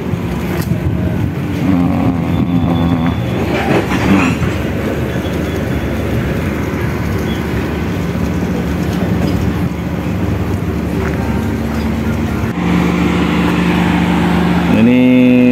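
The Sri Tanjung passenger train rumbles along the rails at Surabaya Kota station, with a continuous heavy roar, faint rhythmic clatter and occasional metallic squeals, loud and close, ending in a rising screech.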